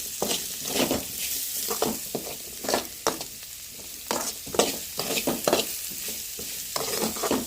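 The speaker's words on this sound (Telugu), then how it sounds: "కొంచెం పసుపు వేసుకుందాం వేసుకున్నాం కదండి తిప్పుకుందాం బాగా ముక్కలకు కలిసేటట్టుగా" Beetroot fry with turmeric being stirred in a pan, with a continuous close sizzle broken by frequent irregular spoon scrapes and clanks against the pan, loud and alone.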